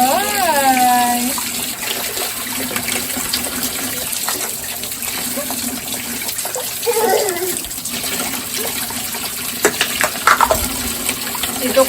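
Water poured from a tabo dipper over a child during a bath, splashing and gushing in bursts alongside faucet-like running water, with a voice briefly heard.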